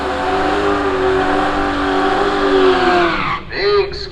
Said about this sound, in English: Big skid there from Jason.